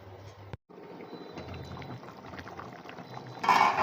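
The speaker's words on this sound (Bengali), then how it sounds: "এবার ঢাকা দিয়ে রাখবো কিছুক্ষণ" Potato curry broth coming to a simmer in a covered wok, a soft continuous bubbling with a brief dropout, then a louder burst of boiling near the end, no talking.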